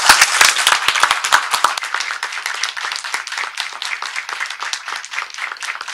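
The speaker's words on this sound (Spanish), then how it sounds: "quiero que me acompañen en un aplauso muy fuerte para nuestros ganadores y ganadoras del Premio de Paz" Loud audience applause for Peace Prize winners at a Colombian human rights event, dense and close at first, then thinning into lighter, scattered claps that continue to the end.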